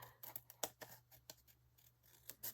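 Scissors snipping paper for a Valentine heart craft, a quick irregular series of close, crisp cuts with quiet pauses between.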